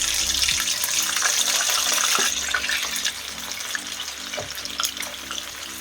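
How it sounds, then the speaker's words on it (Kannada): Mint chicken kebabs deep-fry in oil over a high flame, giving a loud, dense, continuous sizzle with a low steady hum beneath it, heard close and without voices. "ಚೆನ್ನಾಗಿ ಡೀಪ್ ಫ್ರೈ ಮಾಡ್ಕೊಬಿಡೋಣ ಜೋರು ಉರಿ ಮಾಡಿ"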